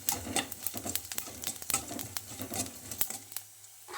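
Ingredients for a sprouted green gram curry fry in a pan, giving a steady close sizzle broken by sharp stirring clicks and scrapes, with no talking.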